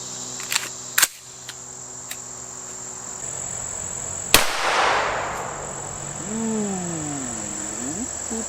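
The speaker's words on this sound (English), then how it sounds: "Let's try some 9mm ammo out of an AR-9 from Palmetto State." A 9mm round fired from a Palmetto State AR-9 at body armor gives one sharp, loud crack with a fading tail, after a few light clicks and over a steady outdoor insect chirr.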